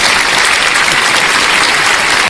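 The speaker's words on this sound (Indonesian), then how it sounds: "Tepuk tangan." A large audience at a talk by Guru Gembul breaks into loud, dense, sustained applause that fills the space evenly before cutting off abruptly at the end.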